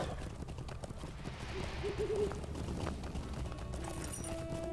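Horse hooves clip-clop at a steady trot in The Lord of the Rings Online, moderately close, over a constant game ambience with a faint tonal hum.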